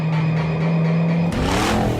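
A 1000-horsepower Ford Mustang engine at wide-open throttle, a loud sustained roar that suddenly climbs in pitch as the revs surge upward, heard from close inside the car.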